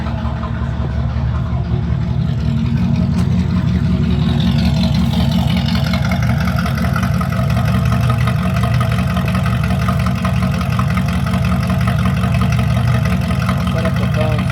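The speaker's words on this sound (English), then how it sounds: "This is my favorite part, is this exhaust system." A 1970 Ford F-250 Camper Special with a 302 small-block V8 idles steadily through its exhaust system, a loud, close, continuous low rumble with an even pulsing beat and no speech.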